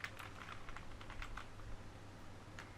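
Typing on a computer keyboard while entering a font name, several quick light key taps in an uneven cluster, faint and close, with no voices.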